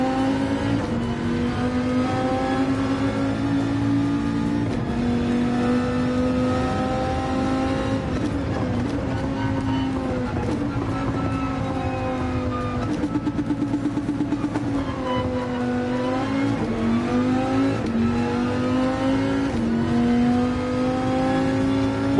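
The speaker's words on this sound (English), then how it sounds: "Boy, this goes through second, third, and fourth awfully quickly" Engine of a car in Gran Turismo 7 climbing steadily in pitch through second, third and fourth gear, with short dips at each shift, loud and continuous with no talk.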